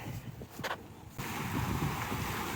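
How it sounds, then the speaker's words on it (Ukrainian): Steady rushing surf of sea waves at an Odesa beach, with some wind noise, continuous and fairly close, no voices. "Отакі хвилі, друзі, сьогодні"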